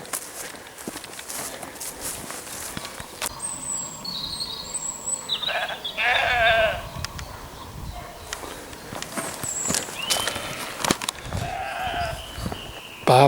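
Sheep bleat at a middle distance in a rural outdoor setting, with several wavering calls scattered over footsteps and rustling, one louder burst midway.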